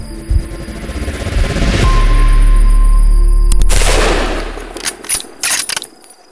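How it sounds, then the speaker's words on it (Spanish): A hunting rifle fired at wild boar during a night hunt in the Spanish countryside, a single loud close report with a long rumbling decay, then quieter rustling and handling noises. "Rubén decide disparar."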